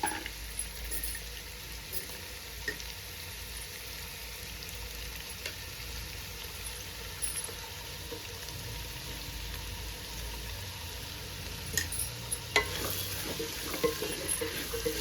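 Vegetables for pulao stirred in a hot pan, a soft continuous sizzle with occasional scraping clicks of the spoon, close and fairly quiet.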